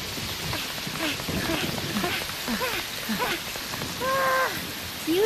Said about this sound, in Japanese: 夕立だからすぐやむよ。